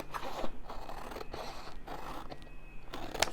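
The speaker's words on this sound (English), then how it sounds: "cut with my scissors" Scissors snip through paper at a crafting table, giving close, crisp crunching cuts in a quick, uneven rhythm, fairly quiet with no talking.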